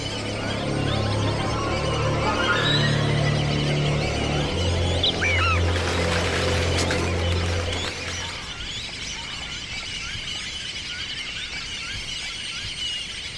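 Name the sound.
ducks calling to each other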